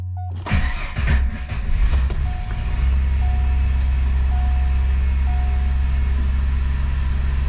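A 1989 Ford Thunderbird SC engine cranks with a short, loud burst, catches, and then settles into a steady low idle rumble that carries on to the end, close up and with no voices.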